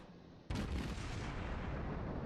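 Naval guns fire in World of Warships, a heavy boom opening a dense, sustained rumble that stays loud to the end after a quieter start.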